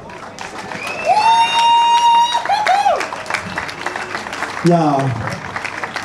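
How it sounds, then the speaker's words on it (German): Crowd applause and cheering at the opening of a CSD pride event in Gießen, broad clapping under an announcer's voice and whistles or shouts, with a rising cheer near the end. "Einen riesen Applaus."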